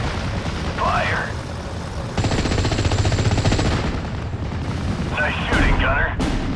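Tank crew gunfire in a Normandy 1944 battle game: a rapid burst of machine-gun fire rattles loudly, with heavy shots and booming blasts punctuating the chatter.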